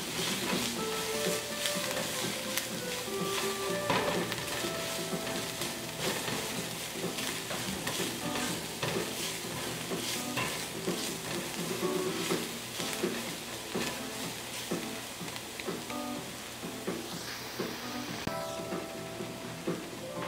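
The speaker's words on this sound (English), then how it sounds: "Just let it brown a little, the garlic." Garlic browning in a hot pan for flank steak bulgogi, giving a continuous soft sizzle and crackle at low level with faint background clatter throughout.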